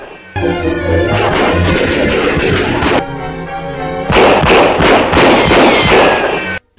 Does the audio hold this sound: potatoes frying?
no